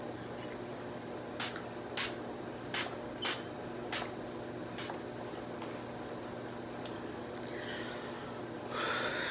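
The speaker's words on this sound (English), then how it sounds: "I usually like to go in with my e.l.f. Illuminating Mist and Spray for the areas where I applied my highlighter" e.l.f. Illuminating Mist setting spray is pumped onto a face in about six or seven short, sharp spritzes at an uneven pace, with a few faint breaths and rustles over a low steady hum.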